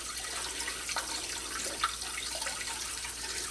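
Water streams steadily from a tap, a continuous hissing splash with no pauses and no voices.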